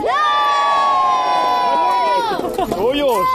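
A crowd, including children, cheers and shouts loudly and continuously for Lord Dispenser at a staged event, the yells rising and breaking into scattered whoops near the end.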